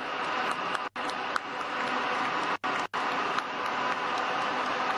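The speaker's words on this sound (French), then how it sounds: "Applaudissements" Applause fills a stadium at the opening ceremony of the 2021 Africa Cup of Nations in Cameroon, a broad, steady clapping roar from a large crowd with a few abrupt cuts in the sound.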